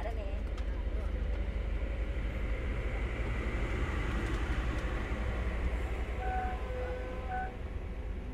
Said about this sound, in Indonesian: Seperti inilah untuk kereta ekspres rakyat timuran di kelas sleeper ya teman-teman.